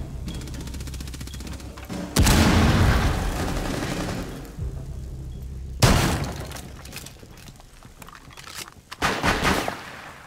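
Loud bursts of gunfire during a Rainbow Six Siege bomb round on the Hereford Base map, erupting in sharp sustained volleys with a breach-like crack, fading, then another burst near the end, without talk.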